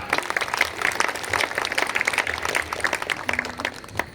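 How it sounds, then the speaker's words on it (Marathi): An audience claps for children performing music at a school music gathering, a moderate, uneven patter of hands lasting a few seconds with some background murmur. "त्यांच्यासाठी प्रेक्षक वर्गातनं जोरदार टाळ्या व्हायला हव्यात"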